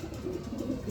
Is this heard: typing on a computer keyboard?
no